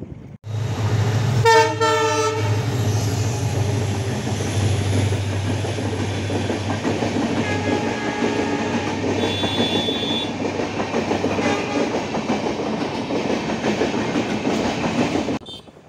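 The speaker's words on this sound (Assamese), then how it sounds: "গেট বন্ধ মানে ট্ৰেইন আহিব এতিয়া।" A train rolls past a closed level crossing in Assam, opening with loud horn blasts, then a long steady rumble of wagons with clattering wheels close by.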